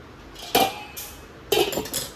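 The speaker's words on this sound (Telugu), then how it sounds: "ఇప్పుడు మనం స్టవ్ మీద పెట్టుకొని ఆన్ చేసుకుందాం స్టవ్ మీద పెట్టాను" A metal pot set down on a gas stove while cooking fish curry, giving two clattering clanks of cookware about a second apart, close and fairly loud with no talk.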